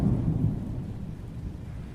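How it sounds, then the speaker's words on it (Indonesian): Thunder rumbles as a sound effect in a school class drama: a deep, heavy roll that is loudest at first, then slowly fades while continuing to growl, with no voices. "Tiba-tiba, suara petir menggelegar."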